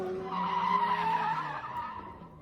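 Lamborghini Huracan Technica tires skidding in a single sustained squeal with engine tone underneath, loud and near, fading slightly toward the end.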